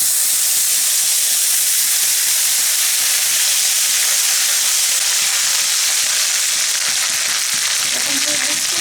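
Ginger paste fries in hot oil with cardamom, cinnamon, a bay leaf and cumin for a pointed gourd and paneer curry, giving a loud, continuous close-up sizzle and hiss with no talking over it.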